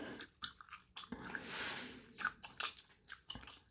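Gum is chewed close to the mic with moist, squishy smacks and soft crunches in an irregular rhythm, quiet and alone on a windy night.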